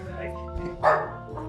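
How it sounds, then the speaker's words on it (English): Dogs bark a few times close by, with one louder burst near the middle, under a talking voice in an indoor studio setting. "the dogs are barking at you"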